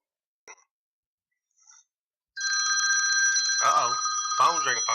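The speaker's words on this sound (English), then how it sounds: "phone's ringing" A telephone rings in a football talk-radio studio: two faint short chirps, then a loud, steady electronic ring that holds for several seconds before a voice starts talking over it.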